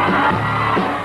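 A crowd of around 400 fans cheers and whoops inside a Hollywood record store at a free mini-concert, a dense, sustained roar of voices close by with no break.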